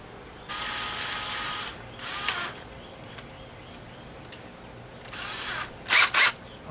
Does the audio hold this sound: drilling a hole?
yes